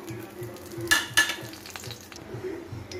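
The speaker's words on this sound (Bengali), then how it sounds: "তেলটা গরম হয়ে গেছে। এবারে আমি এই যে গরম মশলা আর এই তেজপাতাটা এর মধ্যে দিয়ে দেবো।" Garam masala and a bay leaf dropped into hot oil give a soft sizzle, with two sharp metallic clinks of a utensil against the pan near the start and quiet stirring after.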